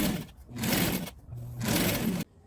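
A sewing machine stitching lastex elastic thread on a child's dress, running in two fast, loud bursts of rapid mechanical whirring separated by a short pause, then stopping abruptly.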